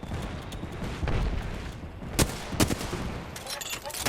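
Video game gunfire rings out in a busy firefight, with sharp shots cracking over a steady background rumble and a few louder bursts near the end, while a voice talks over the action.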